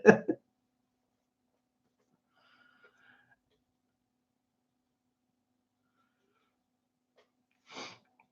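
A single short sneeze bursts out at the start, followed by near silence and a faint breathy sound later, in a quiet indoor setting.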